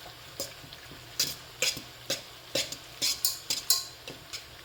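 Butter melting in a pot while being stirred: a faint soft sizzle under a series of light, evenly spaced scrapes and taps of a utensil against the pot, close and quiet, with no voices.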